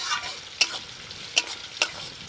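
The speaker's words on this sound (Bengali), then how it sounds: "পেঁয়াজ কুচি প্রথমেই একদম লাল লাল করে ভালো করে একটু ভাজবো" Chopped onions fry in hot oil, a steady close sizzle broken by three sharp stirring scrapes against the pan, with no voices.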